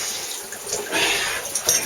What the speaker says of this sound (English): just turn the tap on, just to run the water, the pressure out of the system